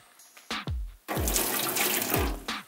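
Water from a tap pours in short bursts into a container during a home hair-dyeing session, rushing loudly and close with brief gaps between flows.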